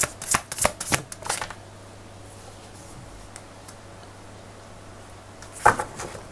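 Tarot cards are shuffled in a few quick riffling bursts near the start, then a quiet pause before one more short shuffle near the end, close and soft with no voices.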